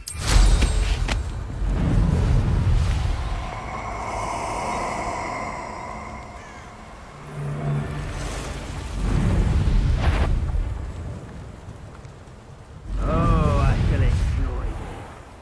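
Confringo blasting spell explosions in the video game Hogwarts Legacy, several loud booming bursts spaced across the clip with game character voices talking between and over them.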